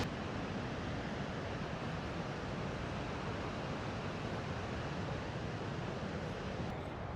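A river in the Montana woods flows in a steady, dense rushing wash, even and continuous without a break.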